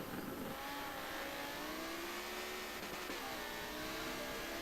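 Race cars in a GT racing video game, a loud continuous engine whine rising in pitch as the cars accelerate across the finish line, with several engine tones overlapping.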